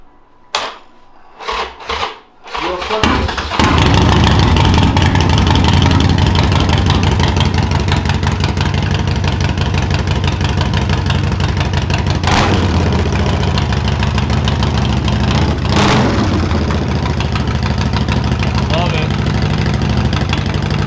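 A few short clunks, then a Harley-Davidson Sportster engine with Bassani exhaust fires up and settles into a loud, steady rumbling idle that continues throughout.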